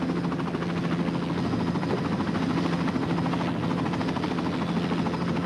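A helicopter flies with a dense, steady, loud rotor and engine drone that continues unbroken and alone, with no talk over it.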